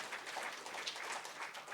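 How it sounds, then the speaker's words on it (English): Faint, distant applause from an audience at a founder's birthday celebration, a soft continuous patter of many hands with no voices over it. "a round of applause for Population First"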